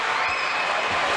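High school ice hockey crowd roaring after a game-tying goal, student section going wild in an arena: a dense, steady wash of cheering and applause throughout, loud and unbroken.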